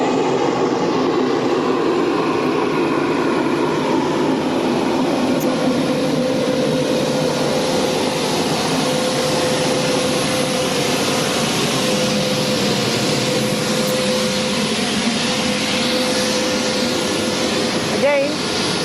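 Steady roar of a JetsGo MD-80 jet airliner heard from inside the cockpit on a flight from Cuba to Toronto, a constant broadband engine and airflow drone with a faint thin tone, unbroken throughout.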